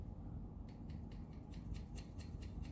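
Scissors snip through short hair during a side-part self haircut, with a quick series of soft, close metallic cuts repeating steadily for a couple of seconds over a faint background hiss.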